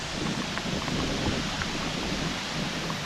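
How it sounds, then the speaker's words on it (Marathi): Steady rain pours at Raghuveer Ghat near Khed in the Konkan Sahyadri hills, a dense, even hiss with rough wind-like rumble underneath and no voices. "पावसाने सुद्धा जोर केलं"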